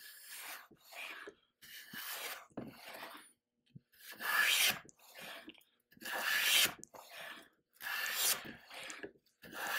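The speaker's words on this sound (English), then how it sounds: "And now I'm taking full width shavings." A hand plane rounding over a wood edge takes full-width shavings in about five distinct rasping strokes, each a close swelling swish separated by short pauses.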